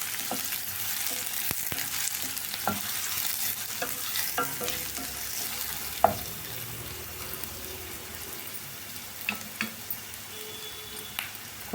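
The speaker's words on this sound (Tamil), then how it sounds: "வெங்காயம் நல்லா ப்ரௌனாக வதங்கணுங்க" Onions and green chilli sautéing until brown for vegetable kurma, a steady broadband sizzle with scattered spatula scrapes and stirring clicks throughout, no voices.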